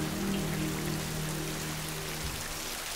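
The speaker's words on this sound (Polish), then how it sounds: "Nie od dziś wiadomo, że szum deszczu wykorzystuje się jako naturalny dźwięk" Steady rain falls in the Tatra mountains, a dense, even hiss of drops on surfaces that continues unbroken, close and moderately loud, with no talking.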